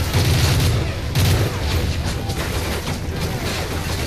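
Explosions and gunfire from the Call of Duty: Modern Warfare 3 video game: a heavy, booming blast near the start and another just after one second, then a steady dense roar of battle noise.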